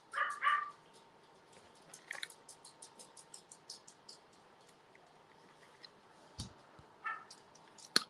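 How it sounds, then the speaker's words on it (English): Dog barking indoors, two or three short sharp barks at the start and near the end with quiet stretches between, fairly faint. "which dog is barking?"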